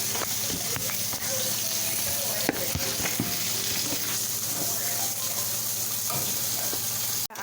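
Seasoning sautés in oil alongside fish for Jamaican brown stew fish, a steady close sizzling hiss with occasional stirring knocks, ending in a sharp clatter.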